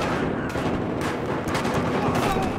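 Dense, rapid gunfire in the multiplayer shooter Battlefield Hardline, several weapons firing at once in a loud, continuous barrage with sharp individual shots cutting through.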